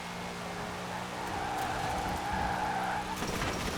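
A Mosler track car in Forza Horizon 4 drives with a steady engine drone. A brief tire-squeal tone rises near the end, and no one talks.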